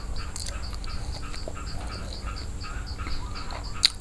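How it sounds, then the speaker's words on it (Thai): Small frogs croak steadily in a repeating outdoor chorus, a constant layered chirping with one sharper, louder call near the end, and no voices. "ฟังเสียงเขียดก่อนจ้ะ"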